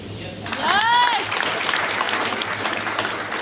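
A seated audience at a business seminar in India claps steadily and fairly close, starting abruptly after a brief whistle-like cheer and continuing evenly for about three seconds.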